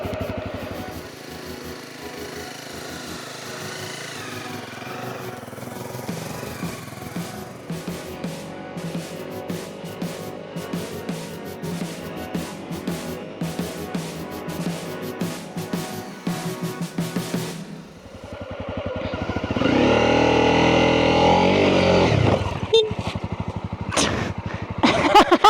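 A motorcycle labours through deep sand in second gear at an off-road sand training spot in Slovakia, its buzzing engine held steadily on the throttle with constant wind rush, swelling louder and harsher near the end.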